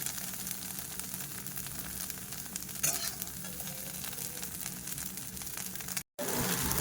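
Soybean chunks fry in a wok, browning with a continuous crackling sizzle and occasional stirring scrapes, broken by a brief dropout near the end.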